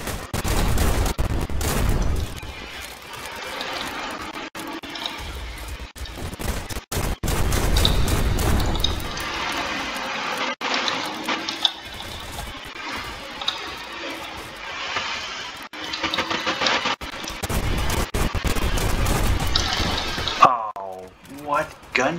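Gunfire in the browser shooter BattleDudes.io, repeated sharp shots and bursts with booming impacts scattered throughout, heard under a player's frequent talking.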